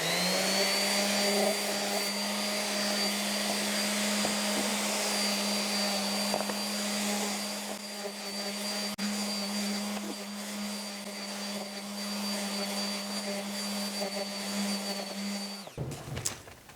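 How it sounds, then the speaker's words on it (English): An orbital sander runs steadily on a scrap wood 2x4, a continuous close buzzing whir that holds for about fifteen seconds with small shifts in pressure, then cuts off abruptly with a brief clatter at the end. "I just use an orbital sander because it's much faster."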